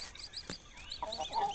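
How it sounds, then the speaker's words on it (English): Chickens in the video game Dinkum cluck while pecking at chicken feed, a few short, close clucks and squawks in quick succession over soft background ambience. "So I'm guessing chickens do eat the chicken feed."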